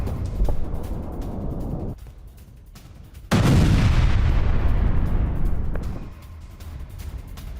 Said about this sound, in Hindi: ये देखिए, हमास के ठिकानों पर कैसे की गई है विध्वंसक बमबारी।